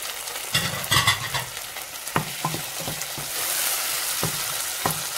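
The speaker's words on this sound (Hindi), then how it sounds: "अब इसमें हम जो चॉप टमाटर थे दो छोटे वो ऐड कर देंगे" Chopped tomatoes sizzle in a hot pan for chicken curry with coconut milk, with steady frying hiss and several sharp scrapes and clacks of a spoon stirring, close up and without talk.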